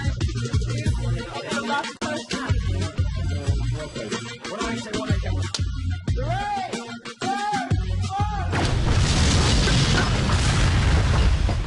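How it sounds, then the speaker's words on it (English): A large petrol explosion booms and rumbles amid dramatic layered sound, ending in a sustained roaring blast that fills the space. "it was such a huge, big, great explosion"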